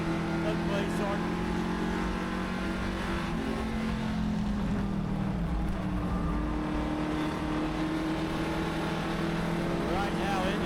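Race cars circle the track at Lebanon I-44 Speedway, a steady droning engine roar holding throughout at moderate distance, with an announcer talking over it.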